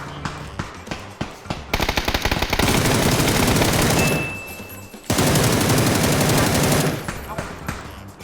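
Sustained automatic gunfire in PUBG, loud and close, with rapid bursts, a brief pause midway and then another long stream of shots, plus scattered single reports at the start.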